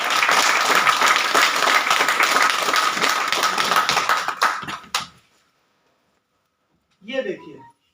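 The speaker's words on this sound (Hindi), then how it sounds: "जोरदार ताली आपके लिए।" Audience applause at an indoor talk, loud, fast crowd clapping for about five seconds that cuts off abruptly, followed by silence and then a short burst of speech.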